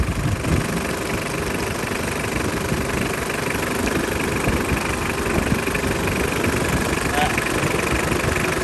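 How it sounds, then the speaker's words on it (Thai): A Mitsubishi Strada 4x4 pickup's engine idles steadily and close, a continuous low rumble with slight vibration throughout. "เครื่องดีเครื่องเงียบมากครับครับ เครื่องเงียบๆครับผม"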